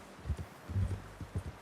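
Horse hooves clip-clopping at a walk in Red Dead Redemption 2, a few soft, low, irregular thuds close by.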